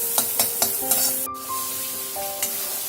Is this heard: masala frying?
yes